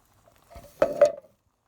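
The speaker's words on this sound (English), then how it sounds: "Stir it all together and let it simmer for a few hours." A pot of moose chili with kidney beans and black beans gets a short stir: a quick, close scrape and clink of a spoon against the pot, with no other sound around it.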